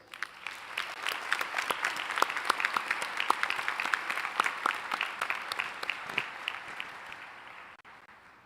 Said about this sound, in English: let's have one more big round of applause for the Emory University class of 2025